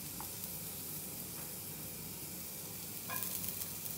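Garlic and ginger sizzle in a hot pan, a soft, continuous frying hiss with a few light clinks of stirring, steady and fairly close with no talking.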